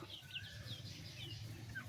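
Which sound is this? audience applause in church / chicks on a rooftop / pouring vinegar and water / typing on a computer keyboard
chicks on a rooftop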